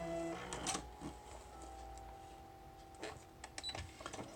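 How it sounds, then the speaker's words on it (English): A sewing machine stitches across a paper journal made from packing paper, with short bursts of mechanical whirring and clacking separated by pauses, close and fairly quiet. "I'm going to go back and I'm going to sew it again."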